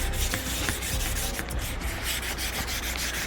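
A car body, previously stripped of rust with 80 grit, sanded by hand with 120 grit sandpaper in a cross-hatch pattern: continuous close, rasping strokes in a steady back-and-forth rhythm.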